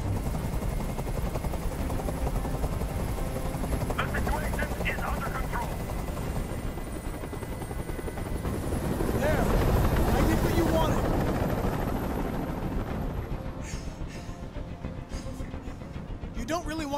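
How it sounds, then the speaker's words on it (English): A helicopter's steady rotor chop and engine drone fill a scene in the video game Detroit: Become Human, swelling louder midway as if passing close, with voices speaking over it. "Tell that helicopter to get out of here!"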